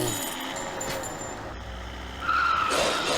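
Car handbrake skid in the Zombie Driver game, a loud tire squeal over a steady engine drone, rising sharply into a harsh screech near the end.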